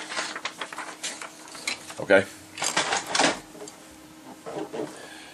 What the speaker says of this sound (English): I'm pulling a piece of paper out of the printer.